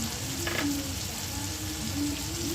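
Ginger-garlic paste frying in a pan with onion and tomato for an egg puri dish: a steady, fairly loud sizzle throughout with a faint hum underneath.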